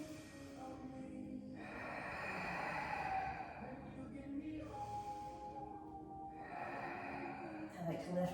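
Slow yoga breathing in downward dog, with three long audible breaths, each a steady airy rush, close and soft against a quiet room.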